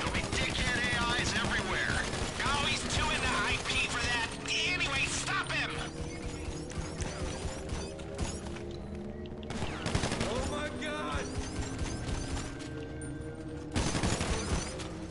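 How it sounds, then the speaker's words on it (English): Gunfire aimed at boxes in GTA 5, rapid automatic bursts and single shots over a constant game background, with impacts and clatter, loud and sustained across the whole stretch. "I'm gonna shoot at the boxes right here"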